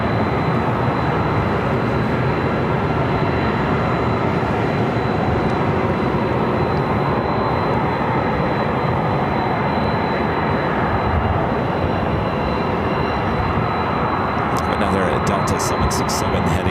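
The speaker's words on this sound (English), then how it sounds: "Delta 767 heading toward us" A Delta Boeing 767-300ER jet approaching at LAX makes a loud, steady broadband roar that fills the whole stretch without easing.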